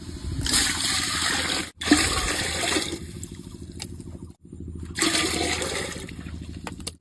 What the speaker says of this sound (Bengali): জল দিছি, জলটা হান্ডির মধ্যে দিয়ে দিব